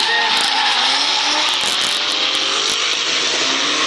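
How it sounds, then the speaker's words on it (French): A loud, roaring V8 engine revs hard and continuously with screeching tire squeals, the raw noise of a drift car at full throttle close by during a drift championship. "c'est énorme là, le bruit de ce V8"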